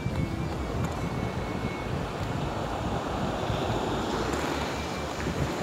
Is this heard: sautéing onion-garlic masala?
no